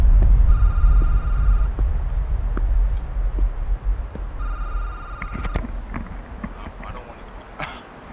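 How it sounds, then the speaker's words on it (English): An electronic telephone rings twice in a video game, two short trilling bursts several seconds apart, over a deep rumbling hum with faint clicks. "Oh, there's a phone call."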